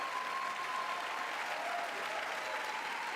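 Sustained applause from a large crowd at the State of the Union address, a dense, even wash of many hands clapping that holds steady throughout without pause.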